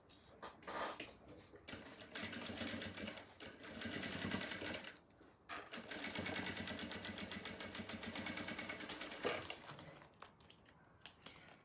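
A sewing machine stitches the lining of a round sublimated bag, a fast close mechanical whir in two long runs with a brief pause between them and no talk.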